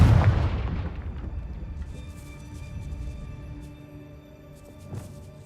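A Confringo fire spell bursts in a wizard video game, a loud deep boom at the start that rolls off into a long fading rumble, with a smaller thud near the end.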